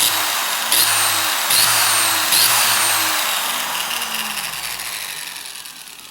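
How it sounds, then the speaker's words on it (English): A flap wheel on a handheld grinder works over a peeling chrome rim, a steady loud abrasive whine broken by three brief bursts of trigger pulses before tapering off slightly toward the end. "we do is with that is the flap wheel on a grinder"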